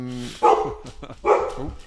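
An excited dog barks loudly and close by indoors: two sharp, separate barks with a short whine between them, and a hum in the background.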